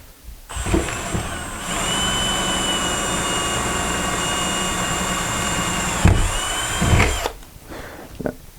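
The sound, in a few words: power drill driving screws into a van ceiling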